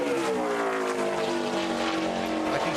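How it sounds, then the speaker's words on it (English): NASCAR Nationwide race car, number 91, on a qualifying lap at Gateway, a loud sustained engine whine with harmonics that shift in pitch as it passes. "Justin Hobgood on the clock for the car number 91"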